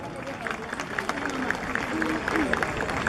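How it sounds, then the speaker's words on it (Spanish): Audience at a ceremony honouring music masters in Huamanga plaza, applauding in a dense patter of clapping with crowd murmur and voices mixed in, moderately close. "Un aplauso, por favor."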